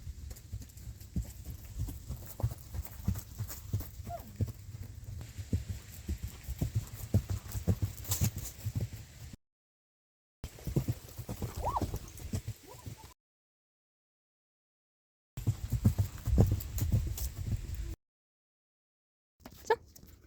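An average-to-medium horse walks at a normal pace around a barn, its hooves clip-clopping in a steady, close rhythm, with the sound broken by several brief silent gaps.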